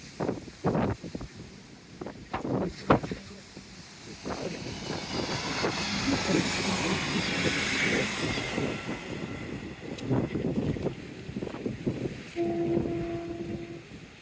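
A train passes near a seawall after rain, heard as a broad rumbling wash with gusty wind noise that swells through the middle and lingers to the end, with brief voices and footsteps early on.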